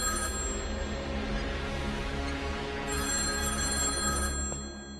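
A telephone rings continuously and close, a steady electronic trill holding for several seconds before cutting off near the end, with no voices over it.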